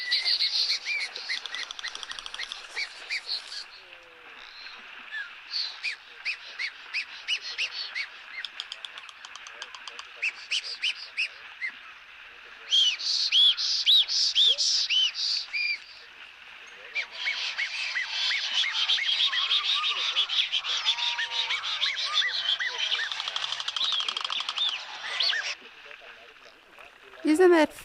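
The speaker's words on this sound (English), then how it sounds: "That croaking sound you hear, that is the actual bill when it sort of claps together when they are vocalizing." Abdim's stork calling, a series of rapid croaking, rattling bursts from bill clapping interspersed with higher bird chirps, fairly close and clear, with brief gaps between bouts and a voice speaking at points.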